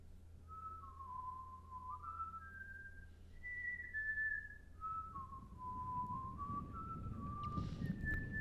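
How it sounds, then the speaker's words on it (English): A person whistles a clear, wandering melody of held and sliding notes, steady and fairly close, with a low background hum and rustling growing louder in the second half. "You have a nice whistle."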